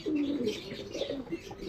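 Pigeons coo in low, rolling, repeated calls close by, with faint chirps and light rustling around them in a courtyard where the birds bathe in water; no voices.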